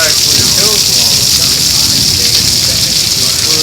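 Heavy rain pours down amid heavy winds during a thunderstorm, a loud, steady broadband hiss that stays constant throughout, with no pauses or distinct drops standing out.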